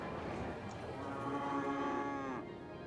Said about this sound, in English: They're musical cows.